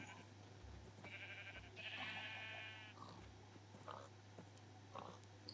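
Several sheep bleat in the video game Minecraft, modded version 1.7.10, a few short faint calls over a low steady hum, with no talking.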